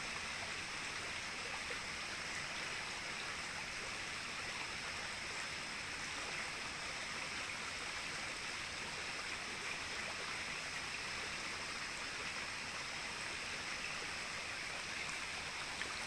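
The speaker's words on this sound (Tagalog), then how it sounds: "Grabe yung bulwak niya." Spring water gushes steadily from its source, a constant broadband rushing wash that stays even and fairly soft throughout with no voices.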